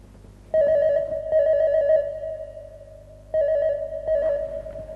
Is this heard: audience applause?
no